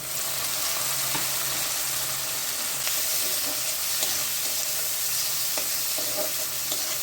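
Chopped tomatoes sizzle and crackle steadily in hot oil in a pan while being fried for a Bengali katla fish curry, with occasional stirring scrapes and no voices.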